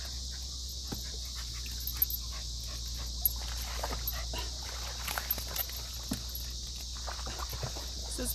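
Dogs playing beside a lake during a livestream at an RV campsite, with panting, scrabbling paws and small scuffles close to the microphone over a steady outdoor hum.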